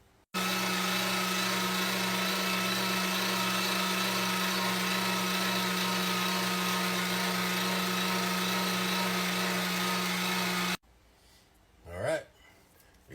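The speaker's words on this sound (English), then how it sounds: "Now, I do use a coarse cut grinder." Coarse cut grinder working through a shrimp mixture for smoked shrimp cakes, a loud steady motor whine running continuously for about ten seconds before cutting off, followed by quiet room noise and a short swelling whoosh.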